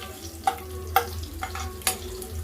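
Ivy gourd and potato pieces fry in a pan with a soft, continuous sizzle, broken by four evenly spaced scraping strokes of a stirring spoon, close up with no voices.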